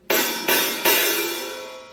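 Three close hi-hat strikes on a rock drum kit go from a clipped closed chick to a looser open hiss. The final hit rings out into a long bright sizzle that slowly fades, with no speech.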